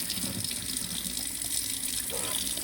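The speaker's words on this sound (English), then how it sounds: "let it sit and run under cold water for about 3 or 4 minutes" Cold tap water runs steadily into a sink over freshly boiled eggs, a close, continuous hissing gush with no talk.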